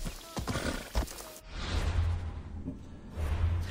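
A horse in Assassin's Creed Odyssey whinnies loudly and close at the start, then hooves clip-clop under a steady rushing whoosh of movement.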